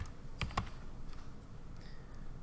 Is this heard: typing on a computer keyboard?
yes